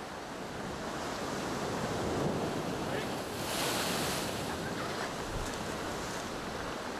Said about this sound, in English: as you can see the waves are starting to pick up